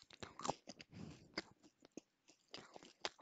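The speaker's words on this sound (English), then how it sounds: "That was just me munching. I was munching on something." Close, crunchy chewing and biting of food by one person, with irregular wet munches and crisp crunches in short bursts and brief pauses between, no talking.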